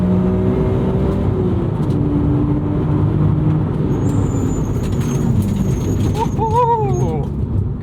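Hard acceleration from a Chevrolet Camaro SS 1LE on track, a loud, continuous engine roar climbing through the gears with brief shift dips, close to the car, ending in a short whine and chirp near the end.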